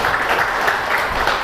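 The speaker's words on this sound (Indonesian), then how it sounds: "Tepuk tangan untuk Pak Fuad Faisal." A crowd claps for Pak Fuad Faisal at a political discussion event in Cianjur, producing steady, dense applause that stays level and close for the whole moment without any voices over it.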